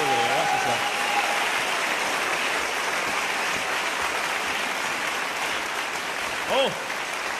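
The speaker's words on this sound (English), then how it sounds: "Applause for young Danielle." An audience applauds a young girl named Danielle, steady clapping across the whole stretch at moderate level, with a brief voice and a short tonal sound near the end.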